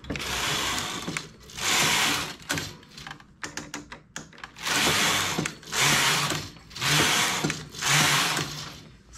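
Domestic knitting machine working plain rows for a colourful baby-blanket trim: loud rasping carriage passes, each lasting about a second, with a cluster of small clicks and knocks between passes, close and with no talk.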